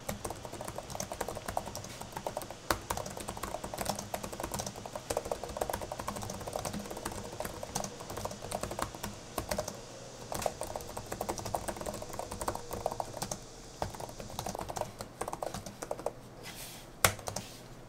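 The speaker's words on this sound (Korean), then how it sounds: "리전 투 스트라이크 키보드라고 해서 펜타그래프 방식의 키보드지만 좀 더 타건감에 신경을 썼다고 합니다" Steady, soft clicking of fast typing on the scissor-switch TrueStrike keyboard of a Lenovo Legion 5 Pro 16ACH laptop with a metal body, the keystrokes running close and continuous.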